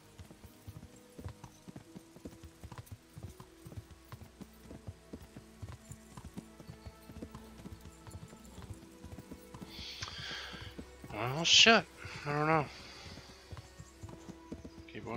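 Steady clip-clop of a horse's hooves while riding in the game Kingdom Come: Deliverance, quiet and rhythmic, with a brief louder burst near the end and a short spoken remark.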